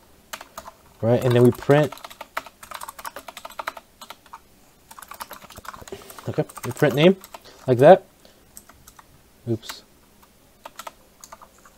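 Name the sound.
typing on a computer keyboard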